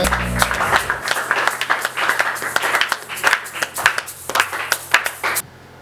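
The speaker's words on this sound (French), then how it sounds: "Moi, je mérite les applaudissements." A church audience at a special service breaks into clapping: uneven, fairly close rhythmic hand claps in bursts from a modest crowd, stopping abruptly near the end.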